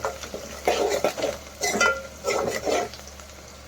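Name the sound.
stirring cabbage keema fry in a pan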